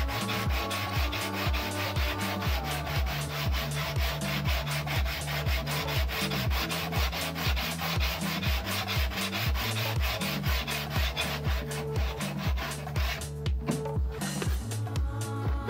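Steady back-and-forth rasping of sandpaper on the underside of a wooden model airliner's tailplane, a fast even rhythm of close strokes running continuously without a pause.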